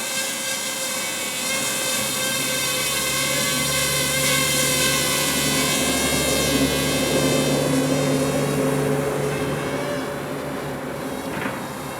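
A Parrot Rolling Spider minidrone hovers close by after takeoff, its small propellers producing a steady, loud, high-pitched buzzing whine with harmonic layers that holds evenly throughout.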